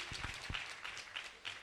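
A worship audience applauds to acclaim the King of Kings, a brief burst of dense clapping heard at moderate distance.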